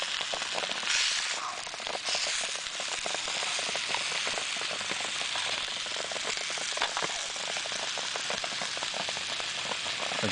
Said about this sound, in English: And here that's starting to sizzle now.